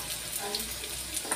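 Crispy tofu dumplings fry in oil on low heat, giving a steady soft sizzle with small crackles and pops throughout.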